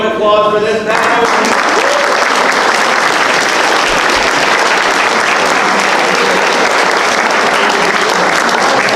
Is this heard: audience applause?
yes